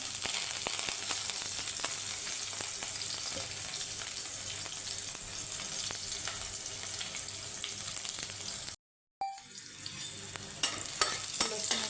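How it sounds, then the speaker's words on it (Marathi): Red amaranth greens sautéed with onion and garlic in a pan crackle in a steady, close sizzle with stirring scrapes, cut by a brief silent gap before the frying resumes. "चांगला परतवून घ्यायचा"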